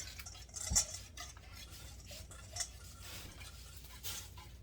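A spoon stirs food in a cooking pot, scraping steadily with light metallic clinks against the sides and one sharper knock near the start.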